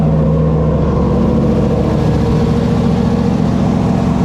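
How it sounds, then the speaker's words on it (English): An LS V8 engine swapped into an AMC AMX idles loudly and steadily at about 1700 rpm, a deep, throbbing rumble with a constant low hum and no voices. "So I got it idling at like 1700, but it's loud."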